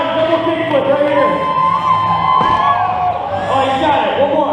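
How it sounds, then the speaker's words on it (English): A crowd at a school skateboard demo cheers for a skateboarder's double kickflip, with loud whoops, shouts and children yelling sustained throughout, close and busy. "Now let's cheer Chad on, double kick flip right here."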